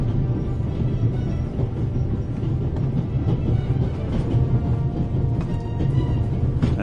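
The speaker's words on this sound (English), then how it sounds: "How can I stop the train?" Steady rumble and rhythmic clatter of a moving train in the video game The Raven Remastered, continuous and fairly loud throughout with no talk over it.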